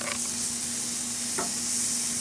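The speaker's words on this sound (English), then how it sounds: "okay, so we're starting to grill these things" Marinated arrachera fajita meat sizzles on a grill with a steady, close, crackling hiss and a few brief scraping sounds. No one speaks.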